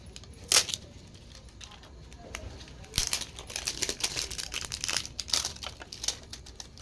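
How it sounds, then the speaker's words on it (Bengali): Face wash packaging being opened on a bed, with crinkling and rustling handling noises in uneven bursts, close by, with no talk. "তো দেখো এবারে আমি ফেস ওয়াশটা খুলছি।"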